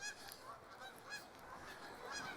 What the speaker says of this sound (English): These are Canada geese.